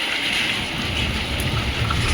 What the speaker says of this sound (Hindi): बहुत ही जोर की बारिश लग चुकी है भैया